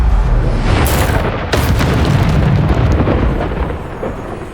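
A Bombarda spell explodes in Hogwarts Legacy with a loud, close boom and a rolling blast that slowly fades over several seconds.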